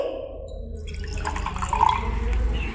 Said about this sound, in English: Now we will put some water in beaker B from A.